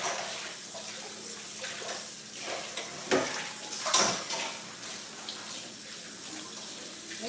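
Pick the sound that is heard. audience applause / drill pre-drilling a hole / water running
water running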